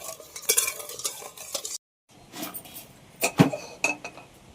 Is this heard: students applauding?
no